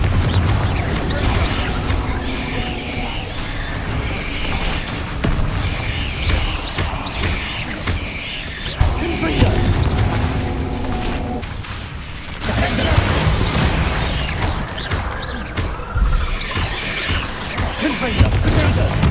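Repeated Confringo blasting-spell explosions in Hogwarts Legacy, a dense, continuous barrage of booms and crashes with mechanical creaks, loud and sustained, with sharper bursts standing out now and then.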